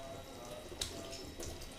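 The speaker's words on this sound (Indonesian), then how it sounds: "Nah, air mengalir ini" Tap water runs steadily while a goat's head is rinsed under it at a sink, a soft continuous splash with a couple of brief louder gushes.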